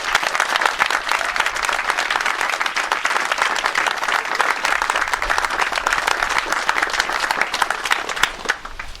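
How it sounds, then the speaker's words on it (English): Outdoor crowd applause rolls on without pause for a regiment of Dragoons at a change of command parade, even and moderately distant, with no talk over it. "your Dragoons on parade, who I think deserve a round of applause right now"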